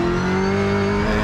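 A black Heartland sports sedan race car with a high-horsepower engine runs hard on a racetrack, its loud, steady engine drone and strong harmonic whine filling the whole moment without any talking.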